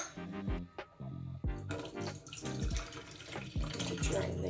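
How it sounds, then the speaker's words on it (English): Tap water runs and splashes over seeds being rinsed after a hydrogen peroxide soak, a close, steady gush with intermittent thuds and clinks, while a voice talks through it. "we are now going to thoroughly rinse them with some water."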